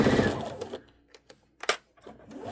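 A home sewing machine stitches down a key chain lanyard in short bursts of rapid mechanical whirring, fading between runs, with quiet clicks and handling noise close by.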